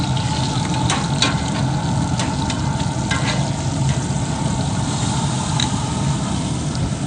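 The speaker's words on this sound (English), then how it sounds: "You can hear that sizzle." Steady, loud sizzling of rib eye steaks on a hot grill, a dense crackling hiss with scattered sharp pops throughout.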